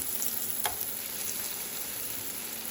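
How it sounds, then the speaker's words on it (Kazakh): Cheese balls frying in hot oil, a soft steady sizzle and crackle with a faint stir partway through, alone with no voices. "Қызарғанша ғана қуырамыз."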